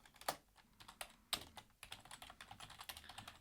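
Keys on a computer keyboard clatter in quick, irregular taps with a few sharper clicks. The typing is faint and close, and no one speaks.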